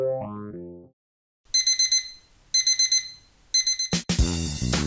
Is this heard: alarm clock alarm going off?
yes